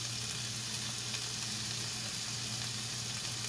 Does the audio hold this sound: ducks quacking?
no